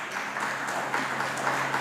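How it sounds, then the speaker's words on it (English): Applause from the audience at a town hall meeting on COVID-19 vaccines and testing: a brief, soft wash of continuous clapping that sounds somewhat distant, with no distinct individual claps. "Ladies and gentlemen, please do, if you wish, offer a round of applause."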